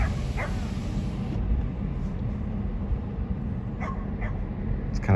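Dogs at a pet lodge and daycare bark and yip in the distance, faint, brief calls poking through steady road and ambient noise.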